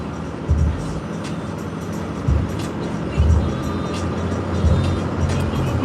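Cummins diesel truck engine and exhaust droning steadily while driving, a low continuous rumble with a few louder swells, heard under the cab with occasional speech.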